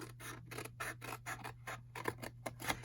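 Scissors snip through paper rectangles in a quick, even series of close, crisp cuts, about a dozen strokes in a row over a faint steady hum.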